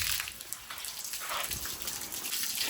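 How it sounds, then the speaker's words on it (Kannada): Water gushes steadily onto a garden in hot sun, a broad continuous splashing spray that holds fairly even throughout with no talking. "ಫಸ್ಟ್ ನಾನು ನನ್ನ ಗಾರ್ಡನ್ಗೆ ನೀರು ಹಾಕಿ"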